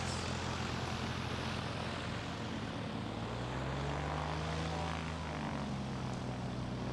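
A light propeller airplane taxis up to the line at the Moses Lake STOL competition, its engine droning steadily with a rising and falling pitch as it moves closer, no voices heard.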